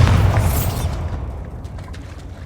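A Bombarda blasting spell from Hogwarts Legacy erupts in a loud, deep boom that rumbles and slowly fades over a couple of seconds.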